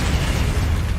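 Confringo fire-blast spell from the Hogwarts Legacy video game, a loud, dense rumbling explosion filling the whole second with heavy low-end boom and no talking.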